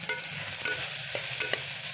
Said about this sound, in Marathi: हळद पण आपण चांगली मिक्स करून घेऊ.